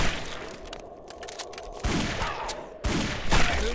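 Gunfire in the video game Guns, Gore and Cannoli: rapid volleys of shots, with a lighter rattle early on and then two loud, dense bursts near the end, with no talking.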